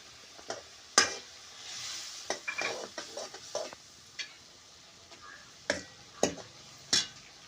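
Vegetables and dal being stirred through hot oil tempering in a pan, with spoon scrapes and clinks coming in irregular bursts over a soft background sizzle, close and fairly quiet, with no talk.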